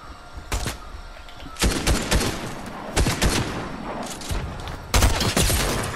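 Shotgun blasts in a first-person video game, about four separate loud booming shots spaced roughly a second apart, each followed by a rumbling tail.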